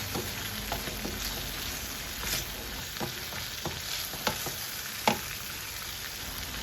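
Food sizzles steadily in a pan while a utensil stirs, scraping and clicking against it at irregular intervals, close by, with no talking.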